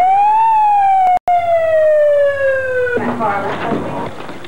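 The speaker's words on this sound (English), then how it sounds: "I'll call the ambulance." A loud, close emergency-vehicle siren wails in a long falling tone with one brief cut. It then gives way to a noisy burst of voices and street bustle.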